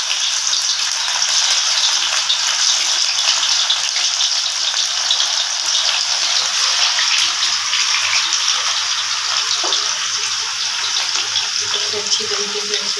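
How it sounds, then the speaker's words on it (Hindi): Minced-meat kofta balls sizzle steadily in hot oil in a home kitchen, a continuous bright crackling hiss that holds at an even, fairly loud level throughout with no voices. "तो अब इसे फ्राई करती हूँ। ऑयल हो गया है गरम, ऑयल यहाँ पे गरम हो गया है।"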